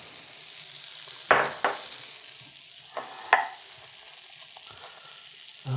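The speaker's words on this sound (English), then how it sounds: "Alrighty, now we're gonna start frying." French toast coins soaked in orange custard fry in butter in a pan, a steady close sizzle with a few brief stirring and scraping clatters, no talking.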